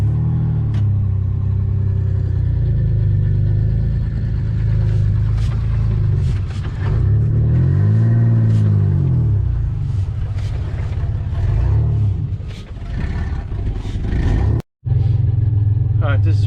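An International Scout 800 engine idles with a steady low rumble while the truck backs up slowly, the note rising and falling a little, with a person talking over it and a brief dropout near the end.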